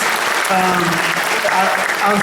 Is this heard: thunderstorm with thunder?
no